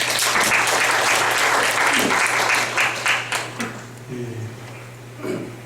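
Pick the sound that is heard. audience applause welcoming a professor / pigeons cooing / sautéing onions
audience applause welcoming a professor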